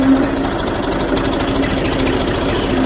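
A Massey Ferguson 35 tractor's diesel engine runs steadily while reversing, a close, loud, even low knocking throb with a constant mechanical hum, unbroken for the whole stretch.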